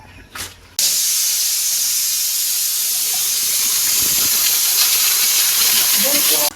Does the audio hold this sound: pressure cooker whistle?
yes